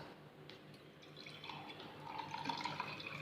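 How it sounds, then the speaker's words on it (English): Water trickles and splashes into a glass, faint at first and then growing fuller and brighter as the pour continues. "I will pour water in first glass"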